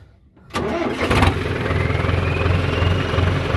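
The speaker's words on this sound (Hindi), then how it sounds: "आवाज है ट्रैक्टर की" Sonalika DI750 tractor engine, modified, in Haryana, cranks and catches after a brief quiet moment, then settles into a loud, steady diesel idle with a rapid, even chug, close to the listener with no talking.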